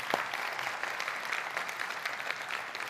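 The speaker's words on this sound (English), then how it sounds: "give our panel a round of applause" Audience applause for a panel at a faith summit, a steady wash of many hands clapping throughout, moderately loud and even, with no voices over it.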